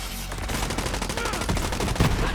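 Rapid gunfire in Borderlands 3 from a Zane build, a loud, steady stream of shots across the whole stretch with sharp bursts standing out near the end.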